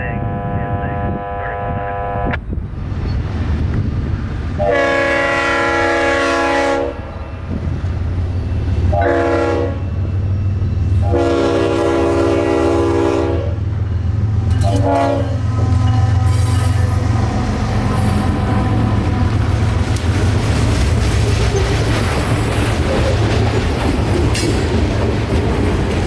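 A freight train with a lead locomotive and a mid-train distributed engine rumbles past, with low, steady engine drone and wheel noise, while a loud horn sounds in several long blasts.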